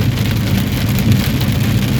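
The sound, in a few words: rain falling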